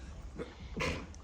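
A single sharp sneeze bursts out close by, preceded by a softer faint breath, in an otherwise quiet setting.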